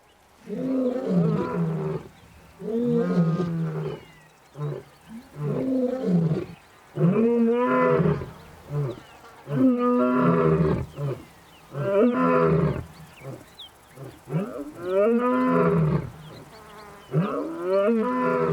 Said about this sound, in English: At Pride Rock, the Pride males roar to proclaim their ownership of the territory.